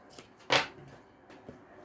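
Three tarot cards are drawn from a deck: one crisp, prominent card snap, plus a couple of softer flicks and slides, all close and quiet.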